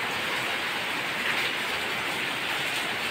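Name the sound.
heavy rain pouring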